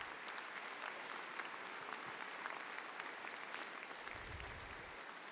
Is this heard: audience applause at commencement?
yes